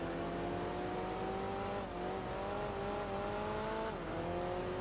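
Il Monstro, an old mid-engine sports car in the Enthusia Professional Racing video game, with its engine droning steadily at revs that rise and dip, including a pitch drop near the end, loud and continuous without any talk.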